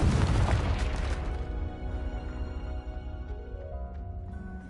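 A Confringo blasting spell detonates in Hogwarts Legacy, a loud, sudden explosion at the start that decays into a long ringing, tonal tail fading over several seconds, with no talking.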